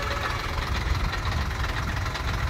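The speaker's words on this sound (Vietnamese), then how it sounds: "Đây là tiếng máy xe." A JAC A5 truck engine idles with a steady low rumble and even mechanical knocking, close and constant, with no voices.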